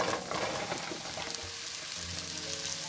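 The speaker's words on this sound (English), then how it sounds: "I am going to start sauteing our onion and our mushrooms" Sliced white mushrooms and onion sautéing in about a tablespoon of butter in a pan, giving a steady, soft crackling sizzle that runs alone throughout at low volume.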